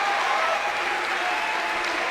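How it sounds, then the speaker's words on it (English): Arena crowd at a Dayton Flyers basketball game, a steady dense roar of cheering and applause from many people filling the space without a break. "you're going to hear the Dayton Flyer crowd."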